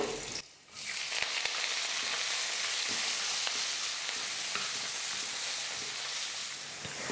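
Garlic, onion and curry leaves sizzle loudly in hot oil in a pan, a dense continuous crackle broken by an early brief drop and a few sharp stirring clicks, no voices.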